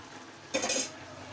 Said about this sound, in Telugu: ఇది బాగా కలిపి పెట్టుకోవాలి మొత్తం మ్యాగీకి